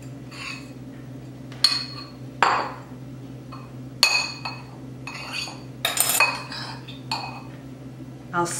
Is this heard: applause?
no